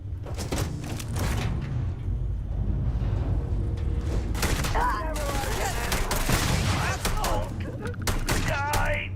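Rapid bursts of Meg Pulse gunfire in Starfield, a sci-fi video game, with dense repeated shots and impacts running throughout, mixed with excited voices talking over the action.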